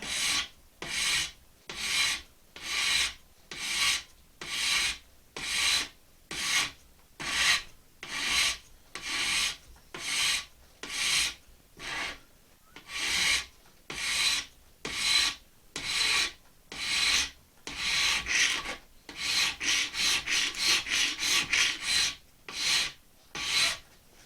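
A steel file rasps along the blade of a crooked knife (mocotaugan) during cold work, in steady, evenly spaced strokes about one per second that quicken into rapid short strokes near the end, close and loud.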